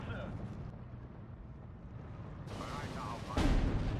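Mortar fire from 50mm mortars in the Steel Division 2 video game. Low rumbling battle ambience builds to a sudden heavy blast near the end, with muffled voices underneath.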